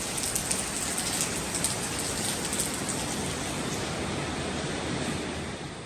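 Steady rain falls outdoors in the early morning, a dense, even hiss of drops with faint patters on surfaces, continuous and unchanging throughout with no speech.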